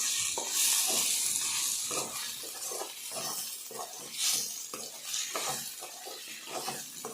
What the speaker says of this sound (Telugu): రెండు స్పూన్ల వరకు కారం, 1/2 స్పూన్ పసుపు, రుచికి సరిపోయినంత సాల్ట్ వేసి మొత్తం బాగా కలుపుకోవాలి